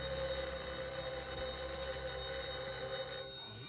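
An old-fashioned telephone bell rings steadily and at moderate volume in a quiet room, its ringing continuing for several seconds before stopping near the end.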